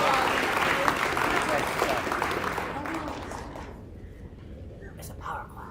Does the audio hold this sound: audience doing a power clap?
yes